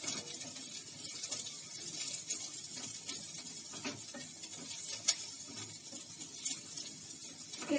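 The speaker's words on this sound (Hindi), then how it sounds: "अब ये जो बचा हुआ तेल है इसमें मैं ये वाले अनियन जो मैंने लेयर बना के रखे थे वो फ्राई कर दूंगी" Layers of onion frying in leftover oil from cooking okra, a soft, steady sizzle throughout with occasional light taps and stirring scrapes, fairly faint and with no voices.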